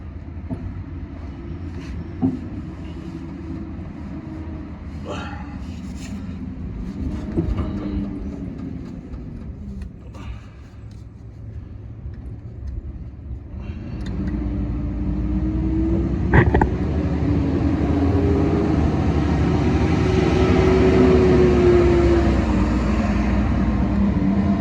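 Heavy trucks pass on a nearby road under active road work, a low rumbling drone that swells louder over the second half, with clanks and knocks of hand work close by.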